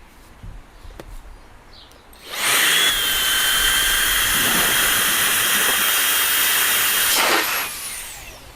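A HiKOKI RA18DA cordless mini blower starts suddenly and runs loud and steady for about five seconds with a hissing, whooshing roar while blowing into water, then cuts off.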